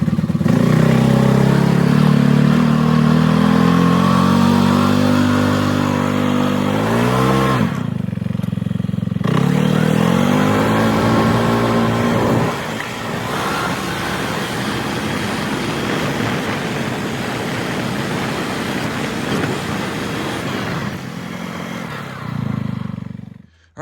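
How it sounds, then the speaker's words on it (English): An ATV four-wheeler engine rumbles steadily at close range for most of the ride, with a brief drop around a gear change, then a low idle and a final rev near the end. "We're gonna get on the four-wheeler."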